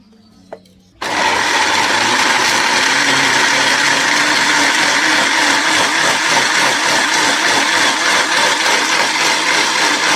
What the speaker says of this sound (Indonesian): bumbunya kita blender semua bumbu ya